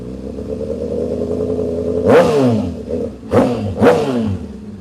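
Motorcycle engine idling and then revved with the throttle three times in quick blips, loud and close.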